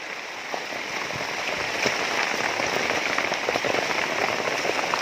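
Steady rain falling on a mountain trail, a constant close hiss with scattered drops pattering on nearby surfaces, alone and without talk.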